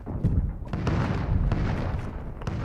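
Cruise missile strikes in a Call of Duty Modern Warfare ground war match, a rolling barrage of loud, deep booms and blasts with sharp cracks scattered through a continuous rumbling roar.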